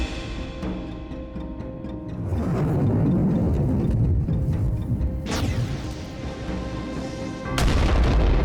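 A musket is fired at a watermelon at a historical siege demonstration in Oxford; a loud blast rolls out mid-clip, followed by a second sharp crack and boom near the end.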